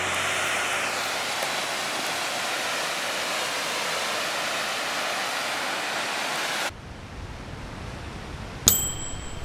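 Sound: small waterfall, Laughing Falls

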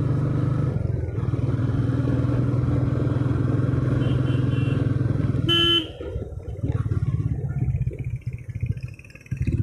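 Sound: motorcycle engine while riding a Meteor on hill road

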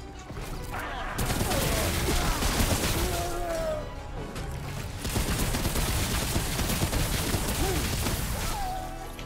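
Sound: gunfire from a gun in a video game

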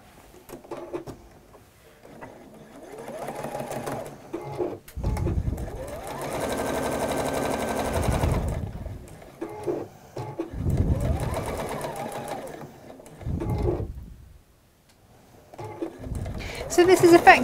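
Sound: sewing machine stitching fabric blocks

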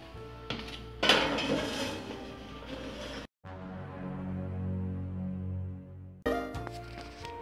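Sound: baking pan being put into preheated oven

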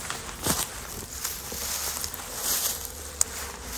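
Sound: honeybees buzzing while two colonies are merged

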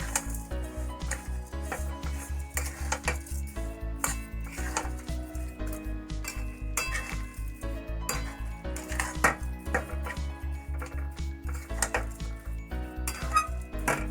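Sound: stirring grated carrot in a pan for carrot barfi

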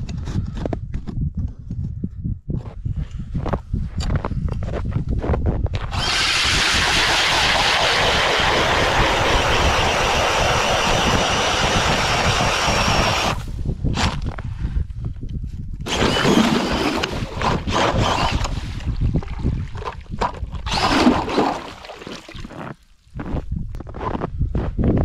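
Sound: StrikeMaster Lite Flite battery ice auger drilling through lake ice

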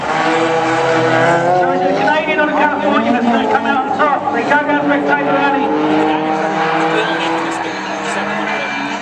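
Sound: Nissan race car racing on track

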